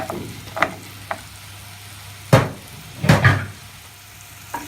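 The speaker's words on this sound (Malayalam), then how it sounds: "മഷ്റൂം നന്നായിട്ട് ഇളക്കി കൊടുക്കാം." Mushrooms sizzling in a pan with pepper powder, stirred by a utensil that scrapes and knocks several times against the pan over a steady frying hiss, close up with no voices.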